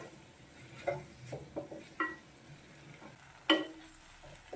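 Onions and tomatoes sautéing in a pan for potato masala, a low sizzle under intermittent scrapes and taps of a spoon stirring against the pan.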